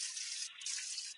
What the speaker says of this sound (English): I'm gonna wash that other pan, other thing, Tupperware.